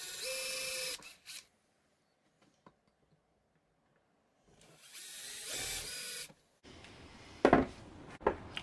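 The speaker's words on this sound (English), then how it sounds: "I'm just going to drill down and make two marks." A power drill whines in two bursts separated by a long pause, drilling marks for mounting a Lidl Parkside heavy duty workbench vice, with some clicks and handling noise around the second run.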